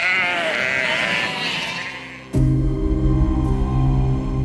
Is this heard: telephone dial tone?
no